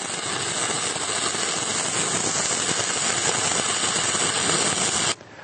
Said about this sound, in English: Move fast enough to avoid excessive weld buildup.